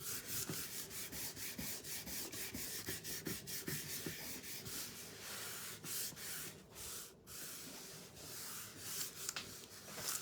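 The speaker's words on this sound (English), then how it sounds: "So you want to burnish it down really well." Vinyl decal being burnished under transfer tape for a Christmas door hanger, heard as rapid, rhythmic scraping strokes, close and fairly quiet, with a short pause midway.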